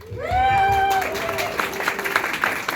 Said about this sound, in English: And again, a round of applause to all of you for being here.